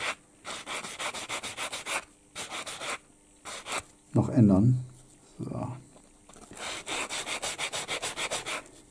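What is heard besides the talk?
sanding model tank part with abrasive sanding fleece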